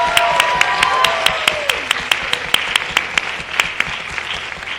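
An audience applauds at a school committee meeting celebrating arts accolades; steady dense clapping fills the room, with a few sharp louder claps standing out near the front.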